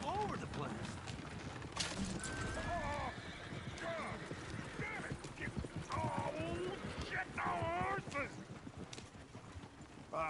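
Horse hooves clip-clop steadily and a horse whinnies several times, quiet and somewhat distant, beneath continuous talking voices.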